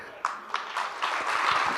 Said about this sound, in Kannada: ಸೌಂಡ್ನರ್ಗೊಂದು ಜೋರ ಚಪ್ಪಾಳೆ ಕೊಡ್ರಿ.